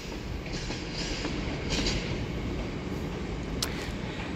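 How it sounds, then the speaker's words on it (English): Class 66 diesel locomotive 66570 hauls a loaded stone freight train past, a steady, moderately loud rolling rumble of wagons with faint clicks and a brief squeal. "66570 pulling a stone train from Think."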